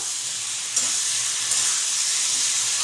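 Spice paste fries in a pan for a Bengali cabbage ghonto with fish head, giving a steady close sizzle and hiss, broken by a couple of short scrapes as it is stirred; no one speaks.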